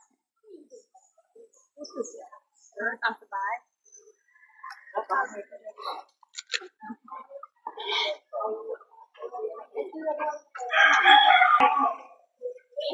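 A rooster crows loudly at Wat Umong temple in Chiang Mai, one strong drawn-out call standing out among other bird calls and cooing, with people talking nearby.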